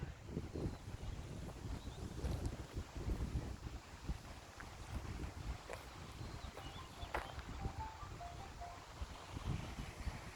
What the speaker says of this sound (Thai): ลมใต้ตรงๆเลย